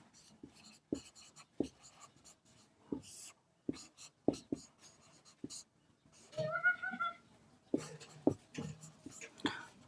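Pen scratching on paper while a math solution is written out, soft intermittent strokes and taps with pauses between them, quiet and close, with a brief murmur of voice partway through.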